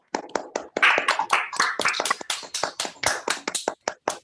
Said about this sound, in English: People should feel free to unmute themselves and we can join together in applause.